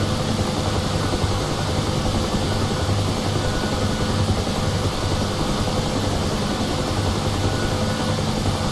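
Helicopter engine and rotor in the DCS flight simulator, heard as a steady, continuous broadband whine and drone at even loudness throughout, with no talking.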